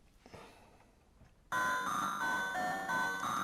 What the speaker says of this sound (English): we play a little arpeggiator on the key step.